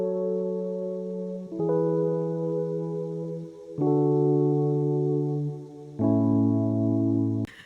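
Native Instruments Mark 1 electric piano rolling through sustained chords steeped in reverb, four long held tones that shift downward in pitch, warm and mellow with a soft shimmering tail.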